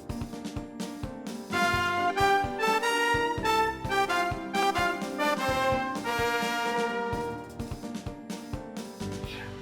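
A horn or trumpet-like instrument, a karna, plays a bright, brassy melody presented as a president's theme song, with sustained and rapidly articulated notes and short pauses between phrases, heard alone and fairly loud.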